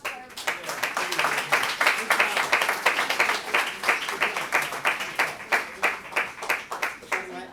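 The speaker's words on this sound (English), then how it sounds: "How about a round of applause for everybody?" Students and teachers at a school morning assembly give a round of applause, brisk clapping with rhythmic pulses rising and falling, fairly close, with some voices mixed in.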